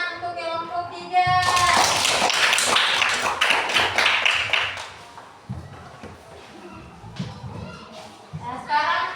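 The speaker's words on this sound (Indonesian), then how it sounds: "Tepuk tangan untuk kelompok 3." Schoolchildren in a classroom clap together for a group that has just finished, a dense burst of many hands lasting a few seconds before fading into scattered taps, shuffling and a teacher's voice.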